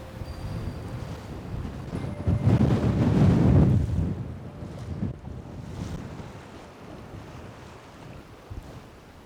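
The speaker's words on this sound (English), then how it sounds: "I think they were saying like up to 40-mile-an-hour gusts" Strong gusty wind buffets the microphone at a windy shoreline during fly fishing, swelling into a loud roaring gust around the middle, then easing back to a steady rushing bluster.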